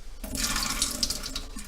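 Water draining out of a can, a short, soft splashing pour of liquid lasting under two seconds, near and alone.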